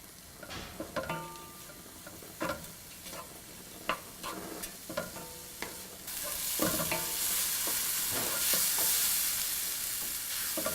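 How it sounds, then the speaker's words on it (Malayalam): Chopped onions with salt sautéing in a pan for chicken tikka masala: repeated scraping stir strokes over a low sizzle that swells into a loud, continuous frying hiss midway. "കട്ട് ചെയ്ത് വച്ചിരിക്കുന്ന സവോള, ആവശ്യത്തിന് ഉപ്പ് എന്നിവ ഇട്ട് വഴറ്റുക"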